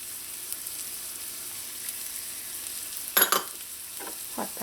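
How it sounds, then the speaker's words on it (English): Chopped onions, garlic, hot pepper and bandanya saute in hot oil for Guyanese-style puri, giving a steady soft sizzle throughout with a brief louder burst of stirring near the end and no talking. "When your oil is nice and hot, add in your chopped onions,"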